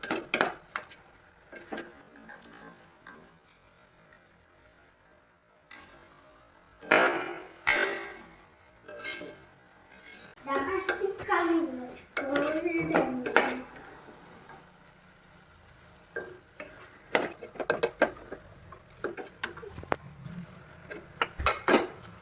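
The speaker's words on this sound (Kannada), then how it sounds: "ರೈಸನ್ನ ಹಾಕಿ ಅದಕ್ಕೆ ಕಲಿಸ್ಕೊಳ್ರಿ. ಫ್ಲೇಮ್ ಜಾಸ್ತಿ ಮಾಡ್ಕೊಳ್ರಿ. ಇವಾಗ ಚೆನ್ನಾಗಿ ಕಲಸಿ" Washed rice being stirred in a cooking pot over a high flame, with a metal spoon scraping and clanking against the pot in irregular bursts, separated by quieter pauses and a faint background sizzle.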